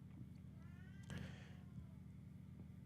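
A cat gives a faint meow against a steady low hum in an indoor live-broadcast setting, one brief call roughly midway through.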